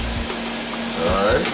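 Oven-fried chicken sizzles loudly and steadily in hot fat, a dense close crackle with faint scraping, and a brief voice speaks over it.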